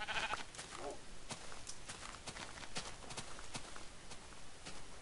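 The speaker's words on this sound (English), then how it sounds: "Oh, sheep." Sheep bleating in the Minecraft video game, short game-sound bleats repeating over faint footstep-like clopping and ambient noise, fairly quiet and without speech.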